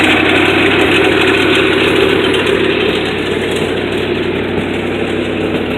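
Close and loud, the engine of a 1967 Ford Thunderbird idles with a steady, even rumble that holds with no voices over it.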